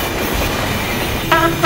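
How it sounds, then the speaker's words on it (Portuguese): A freight train rumbles steadily past, then a loud horn blares with a chord of sustained tones near the end. "Trem de carga"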